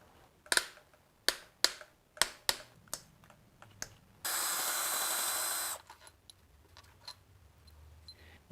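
Wrench breaking bolts loose on a VK56 engine during a rebuild: a series of sharp metallic clicks and cracks at irregular intervals, then a steady loud hissing burst of about a second and a half, followed by fainter scattered clicks.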